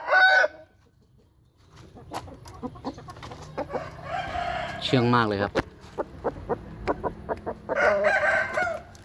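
Chickens, including tame young birds, cluck and a rooster crows clearly near the start and again near the end, with someone talking throughout in between.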